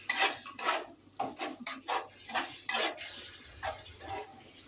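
A spoon scrapes and stirs turmeric, fried onion and ginger-garlic paste with a splash of water in a pan for mustard fish curry, making a close series of irregular clattering, scraping strokes with no talking.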